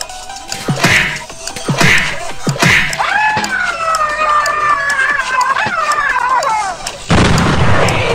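Several sharp blasts from bombs going off in a video game crack out in quick succession, followed by a wavering whistling tone and then a final heavy, rumbling explosion, all loud and close.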